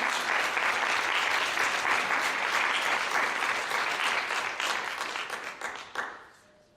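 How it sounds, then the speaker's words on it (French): An audience at a panel discussion gives a steady round of applause that holds at full strength for several seconds, then tails off with a few final claps into room quiet. "on peut les applaudir déjà"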